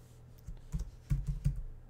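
A logon name being typed on a computer keyboard: a short burst of soft, close keystroke clicks in an uneven rhythm over a faint background hum, with no talking.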